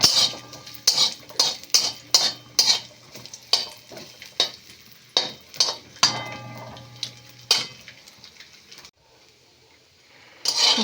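Coconut pieces and dried chilli fry in a pan, with a utensil repeatedly scraping and clinking against the metal in quick bursts over a low sizzle, before the stirring stops and the sound fades near the end.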